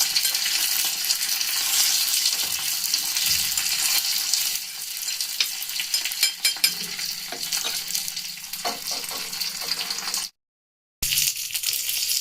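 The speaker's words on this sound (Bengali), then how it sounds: "দিচ্ছি একটুখানি জিরে, একটা শুকনো লঙ্কা, এটাকে হাতাতে অল্প একটু তেল দিয়ে এটাকে ভেজে দিতে হবে" Cumin seeds and a dried chili fry in a little oil in a ladle, making a continuous sizzle dotted with small pops and clicks that cuts out briefly near the end.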